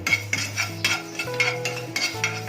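Coriander seeds dry-roasting in a kadai, stirred with repeated scraping and metallic clinks against the pan, a brisk close rhythm of light rattling strokes.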